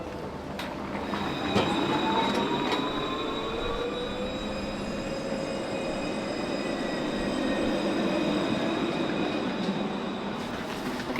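A Tenerife tram rolls along its rails with a steady rumble, squealing wheels and rhythmic clicks, close and continuous with no talk.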